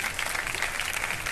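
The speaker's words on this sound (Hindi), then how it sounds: "बहुत सारी तालियां वासिफ के लिए भाई" Studio audience applauding a guest on a Ramadan sehri talk show, a steady, dense wash of clapping heard up close and without pause.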